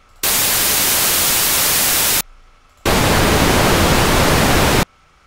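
Two bursts of hiss-like noise, each about two seconds long with a short gap between them, sound fairly loud and slightly dulled, as though the high end has been rolled off after inverse DFT filtering.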